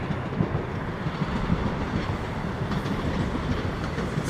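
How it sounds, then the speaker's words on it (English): A train rolls past on a freezing night in Toronto, a steady close rumble with rhythmic clickety-clack of wheels on the rails, continuous and fairly loud with no talk. "Watch the train go by."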